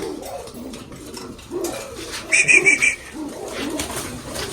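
A flock of about a hundred pigeons cooing in soft, repeated low murmurs, with a brief higher chirp from another bird partway through.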